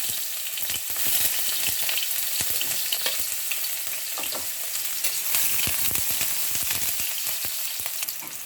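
Onion and tomato sauté in a pan for ginisang ampalaya: a continuous loud crackling sizzle dense with sharp pops and spatters throughout, with no voices.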